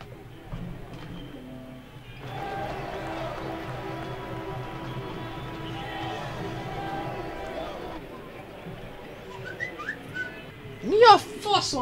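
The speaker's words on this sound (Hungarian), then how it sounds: "hogy állandóan fütyül ez a telefon?" A phone gives off whistling Twitch notification tones, short rising chirps near the end over a steady engine drone from the Wreckfest racing game, with light talk.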